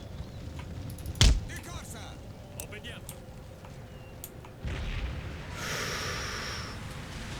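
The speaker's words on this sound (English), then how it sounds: "look at that, they got mortars." Mortar fire in Empire: Total War, one sharp booming launch near the start followed by scattered thuds and battle noise. Someone talks over it.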